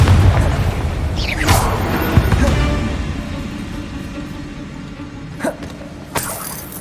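Confringo blasting spell explosion in the Hogwarts Legacy video game, a deep booming blast followed by a fading rumble and a couple of sharper later bursts.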